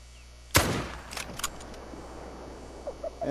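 A single loud rifle shot cracks out at an animal in a hunting video game, followed by a brief echoing tail, then a few faint clicks and thuds in a quiet outdoor scene.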